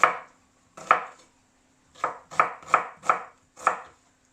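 A knife slices through an onion on a board for pakoras, making seven crisp, close chopping cuts at an uneven pace with short silences between them.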